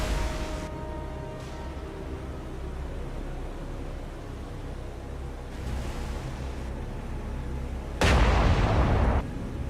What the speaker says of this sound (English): Can I get everybody to start shooting at the ship?